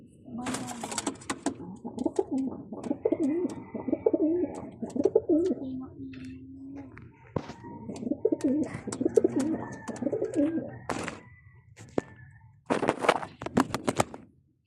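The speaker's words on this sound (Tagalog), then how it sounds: "Ayun na mga kalapatids." Pigeons coo repeatedly at close range, with flapping and sharp rustling bursts in between and scattered clatter, while people talk nearby.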